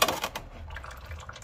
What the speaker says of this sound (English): we're gonna open this up so they will drain quicker